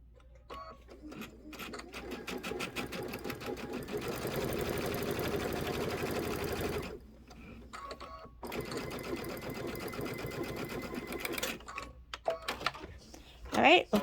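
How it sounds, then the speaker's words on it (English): Home sewing machine stitching quilt sections at a steady fast rhythm, a continuous mechanical whir with brief pauses between seams, close and clear, ending with a few handling clicks. "my sewing machine."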